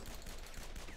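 Shotgun blasts from Guns, Gore & Cannoli 2 arrive in a rapid, dense barrage of gunfire filling the short second, loud and close, with no voices heard.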